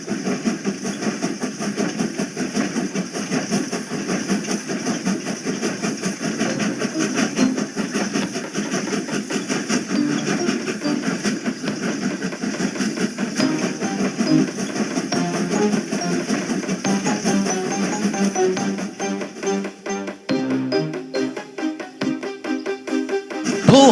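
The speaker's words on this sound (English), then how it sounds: "together the two engines pushed and pulled the heavy passenger train up the hill" Two steam engines working hard together to push and pull a heavy passenger train up a hill, a steady rumbling chug with rhythmic pulsing that carries on at an even loudness before easing near the end.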